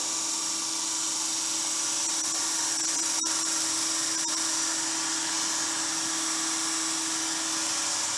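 A DC shunt motor runs loaded by a brake drum in a lab test, giving a steady high-pitched electric whine with a constant hum, close and unchanging, with a couple of faint clicks.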